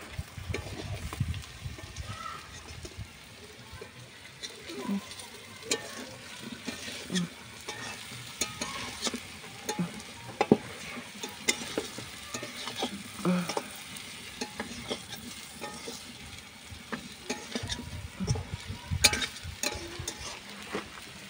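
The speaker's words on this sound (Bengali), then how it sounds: "দিয়ে এবার ধীরে ধীরে কষে নিতে হবে" Five pieces of fish being slowly sautéed in a pan for a curry, a steady close sizzle and hiss with continual stirring scrapes throughout, no talking.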